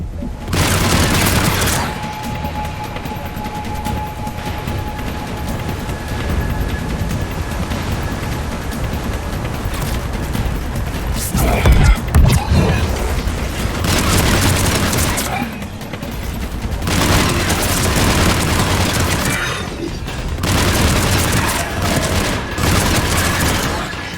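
Continuous heavy gunfire and booming explosions on Insanity difficulty in Mass Effect 3 Legendary Edition's Leviathan DLC, loud and sustained with repeated bursts and a big blast near the middle, voices calling out under fire.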